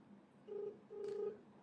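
Phone dialing a call: two steady electronic tones sound in sequence, close and clear, like a ringback or dial tone over a quiet line, with no talk.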